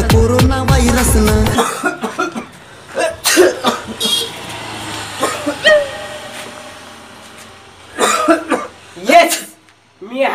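Harsh coughs and throat-clearing come in uneven bursts in a Marathi comedy sketch about the coronavirus, separated by pauses and mixed with voices and some background traffic.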